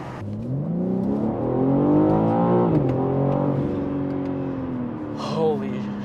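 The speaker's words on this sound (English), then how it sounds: "But my favorite part is still the induction noise." A BMW M3 Competition G80 accelerates hard with a loud induction and engine note that climbs through the revs, drops back at a gear change and climbs again, heard from inside the car.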